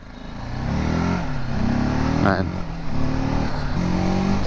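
A 300cc motorcycle engine revs with a steady, throbbing drone that swells and eases while someone speaks briefly over it.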